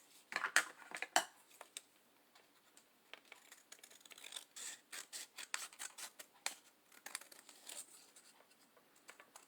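Scissors snipping through scrapbooking paper for a Halloween paper-pieced envelope embellishment, a quiet close series of crisp cuts and light rustles coming in uneven bursts, with no talking.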